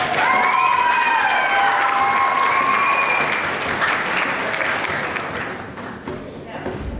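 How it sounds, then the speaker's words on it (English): A pageant audience applauds loudly and steadily for several seconds, with some cheering and shouts mixed in, the clapping thinning toward the end. "Give them a big round of applause."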